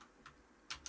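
A computer keyboard with a few keys pressed, two or three quiet, crisp clicks in quick succession, close up.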